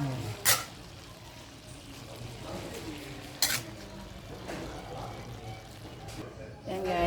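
Mung bean sauce is poured into a pot already holding pork and squash, giving a soft liquid splash and a gentle sizzle, with a few sharp clanks of utensils and a person talking throughout.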